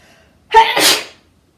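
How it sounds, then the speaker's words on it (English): A single loud, close sneeze bursts out sharply, then fades into silence. "going to have a sneeze, I think."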